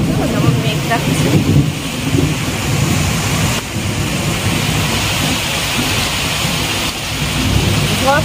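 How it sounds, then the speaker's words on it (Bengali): Heavy rain pours steadily in a thunderstorm, with rumbling thunder underneath, loud and continuous throughout. "ঝড় জোরে বৃষ্টি হচ্ছে"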